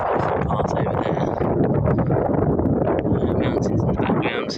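Heavy wind buffeting the microphone on a coastal path by a beach at Tonfanau, a constant rumbling roar with gusty rustle that fills the whole clip.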